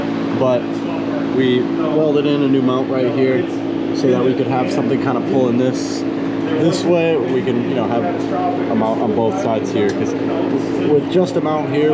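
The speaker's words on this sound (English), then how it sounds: "I apologize for the fan noise" Steady broadband whir of a shop fan running in a garage where a custom exhaust is being built for a Mk3 Toyota Supra, a constant drone sitting under continuous nearby speech throughout.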